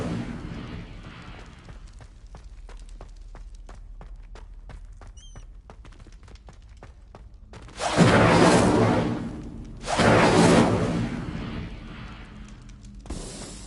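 In Hogwarts Legacy, an Incendio fire spell is cast twice, each a loud roaring whoosh of flame lasting about two seconds, following a stretch of quieter clicking and ambient game sounds.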